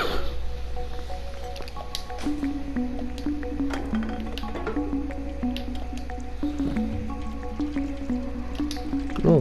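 Water drips and trickles in the video game Stray, with steady wet plops and squishy droplets over a constant low hum, moderately loud and with no talk.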